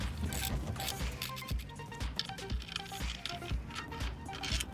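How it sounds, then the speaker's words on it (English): A socket wrench fitted with a 15mm socket ratchets steadily on an alternator bolt of a Chevrolet Uplander or Saturn Relay, a dense run of clicks and mechanical rattles up close. "now we're going to remove this one right here, also with the 15mm socket"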